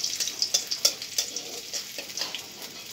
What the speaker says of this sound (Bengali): আলুর দমের জন্য একটু মশলা ভাজবো। ফার্স্টে একটু রসুন, অল্প অল্প ইনগ্রিডিয়েন্টস দেবো।